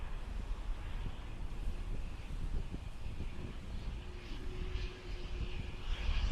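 A plane landing and taxiing at Dublin Airport, heard as a faint, steady distant engine drone mixed with light wind noise, a low whine rising briefly midway, with no talk.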